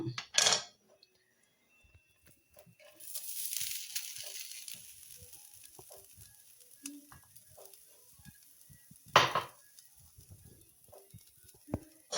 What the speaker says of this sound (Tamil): அரை மூடி தேங்காய் எடுத்து வச்சுருந்தோம்ல, அதை நம்ம இப்போ ரோஸ்ட் பண்ணலாம்